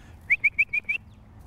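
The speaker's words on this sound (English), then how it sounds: "You notice I'm whistling. I like to whistle because that's gonna carry throughout their life." A person whistles five quick, clear, evenly spaced high notes to call a quail-hunting puppy during training, close and alone over faint background noise.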